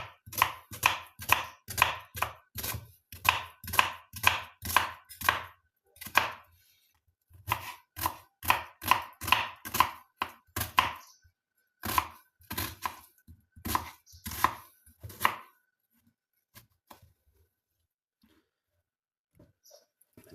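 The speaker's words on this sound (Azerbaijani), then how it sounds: "soğanımızı doğrayırıq." Onions are chopped finely with a knife on a board in quick, even bursts of strokes. Short pauses break up the runs, and the chopping trails off into silence at the end.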